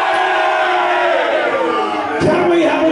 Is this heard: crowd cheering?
yes